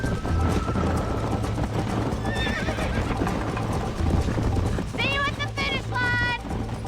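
Horse hooves clip-clop steadily in the Red Dead Redemption video game, joined near the end by a loud horse whinny, all under continuous game sounds and talking.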